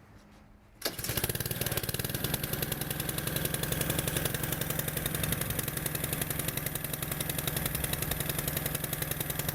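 Gas power washer engine catches after a pull start, jumping from near silence into a loud, steady, rapidly pulsing small-engine idle that runs close and unbroken to the end.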